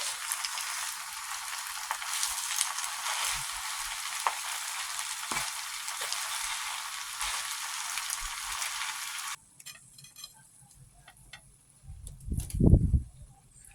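Spaghetti frying in a pan as soya sauce is stirred through it, a steady bright sizzle for most of the time, then quieter scraping and a brief thud of the utensil near the end.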